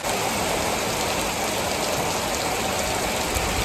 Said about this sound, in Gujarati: ધોધમાર વરસાદ પડે.